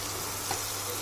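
Butter sizzles in a hot pan while making home-style tandoori chicken gravy, an even, continuous frying hiss heard close up without any voices.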